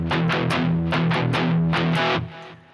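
A distorted electric guitar strikes a chord in a steady chugging rhythm, loud and close, then the final chord rings out and fades.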